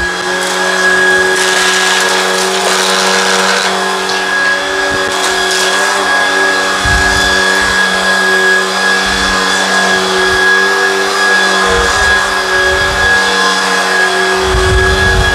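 A Shark Vertex cordless vacuum cleaner runs on carpet with a loud, steady motor whine and tonal hum, and the pitch and airflow shift as it is pushed back and forth.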